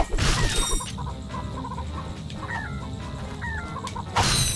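Chickens cluck in the video game Ratchet & Clank, with short warbling calls over a busy bed of game sound effects and a couple of sharp hits.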